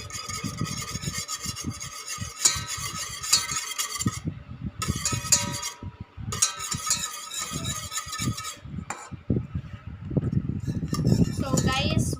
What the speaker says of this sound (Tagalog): We're done stirring.